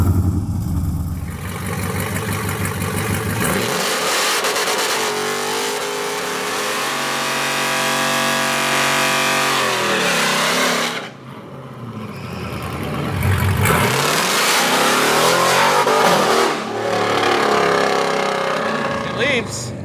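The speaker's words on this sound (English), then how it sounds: "I had to go to third because it just goes straight to the rev limiter, as you heard" A 707-horsepower Hellcat engine in a 1968 Dodge Charger revs hard and loud, climbing through the gears to the rev limiter with a brief drop and a second sustained roaring pull, close and dominant.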